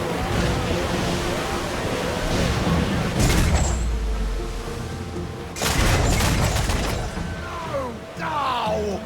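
Ship cannons boom in the naval battle game Assassin's Creed IV Black Flag, with two loud broadband blasts rolling over steady surf, wind and creaking ship ambience.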